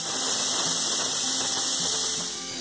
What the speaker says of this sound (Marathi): कुकरच्या 3 शिट्ट्या होईपर्यंत पीठ उकडवून घ्यायचं आहे.